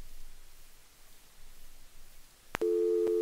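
In the Gabriel Knight adventure game, a telephone call signal sounds: after soft background hiss a click comes, then a steady electronic tone holds to the end, close and clear.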